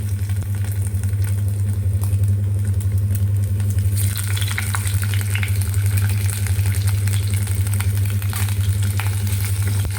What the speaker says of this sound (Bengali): এবার ওই তেলেই আমি অল্প করে পনিরগুলোকে একটু ভেজে নেব